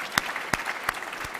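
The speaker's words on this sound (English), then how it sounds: "I just want to give everyone a round of applause again for all the groups." Audience applause for working groups at a meeting: short bursts of clapping that come and go across the moment, fairly faint, with no talking.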